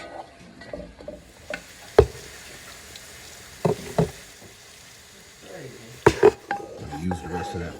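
Ground meat sizzles in a pan for a spaghetti sauce, with a spoon scraping and stirring and occasional sharp knocks against the pan; a voice speaks briefly over the cooking.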